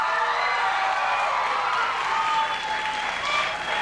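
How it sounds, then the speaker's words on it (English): Studio audience at a television talk show breaks into loud, steady applause, close and full, with scattered cheers and whoops mixed into the clapping. "You got your applause"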